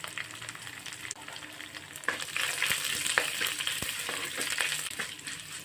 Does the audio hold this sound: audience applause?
no